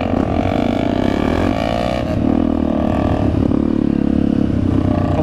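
A Honda CRF dirt bike engine drones and revs continuously while riding a trail, loud and close with gritty rattling throughout.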